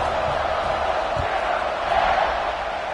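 A football stadium crowd at a Tennessee vs Baylor game after a touchdown drive makes a broad, steady roar of cheering that swells slightly midway, heard at a distance under a faint low rumble.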